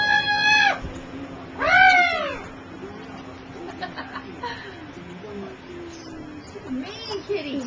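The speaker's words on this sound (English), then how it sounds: "It's a baby kitty." A baby kitten gives a few short, high, bent meows, close by, with people chatting and chuckling between the calls.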